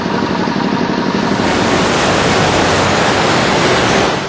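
Floodwater released suddenly from a Tehri auxiliary dam surges through the Peeli river beneath the National Highway 74 bridge at Afzalgarh, Bijnor, a loud, continuous broadband roar that stays steady throughout with no voices.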